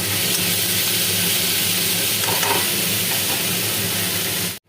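Spices with a pinch of salt and turmeric frying in a pan for masala Maggi, a dense, even sizzle held close and loud throughout before cutting off abruptly at the end.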